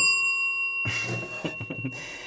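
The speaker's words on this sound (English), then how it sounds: "Are you ready to hear the Williams bells for the first time in forever?" The small bell of a 1960 Williams pinball machine rings out clearly, a bright sustained tone with ringing overtones, followed by a few quick mechanical clicks and knocks from the machine.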